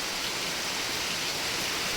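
Heavy rain pours down in a dense, steady roar of broadband hiss, loud and unbroken, with no voices.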